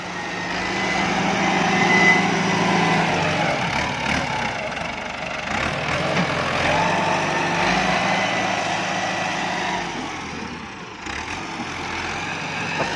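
A New Holland tractor with an air-conditioned cab, pulling a disc plough, runs with a steady, close mid-pitched engine drone that holds for the whole stretch with slight swells in load.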